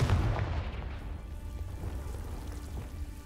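A Confringo spell blast in Hogwarts Legacy, a deep booming explosion at the start that decays into a long low rumble.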